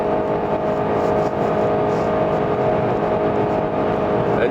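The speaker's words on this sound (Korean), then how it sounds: "엔진 소리 제법 강하게 들리고 속도 제법 빠른데" A Honda Accord Hybrid's engine drones loudly and steadily while accelerating in sport mode, heard from inside the vehicle with a constant whirring hum and no talking.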